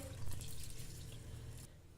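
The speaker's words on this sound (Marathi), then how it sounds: "तीन ते चार वेळा ह्या करडीच्या बिया स्वच्छ धुवून घ्या" Safflower seeds being rinsed in water in a kitchen vessel, a soft continuous splashing and trickling with faint drips, close by and fairly quiet, with no voices.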